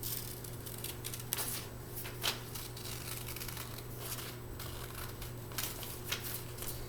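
Scissors snip through folded paper, cutting out butterfly shapes for a craft: soft, quiet, irregular snips and paper rustles over a steady low hum, with no talking.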